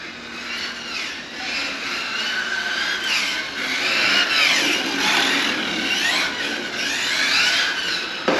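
A Hobao Hyper VT nitro RC car engine screams in a parking lot, its high whine rising and falling as the car speeds past and circles at a moderate distance, with no voices.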